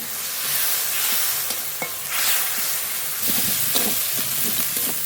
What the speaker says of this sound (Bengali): মশলা নেড়ে নেড়ে খুব ভালো করে কষিয়ে নিয়েছি